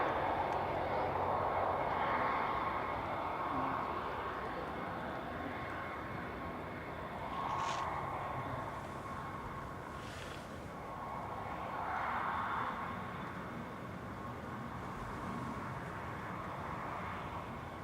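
An airliner arriving from Funchal at Manchester Airport produces a faint, distant, steady engine rumble that rises and falls gently, with no talking.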